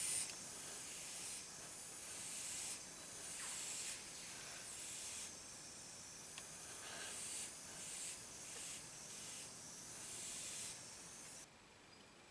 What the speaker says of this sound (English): So let me just get the airbrush ready.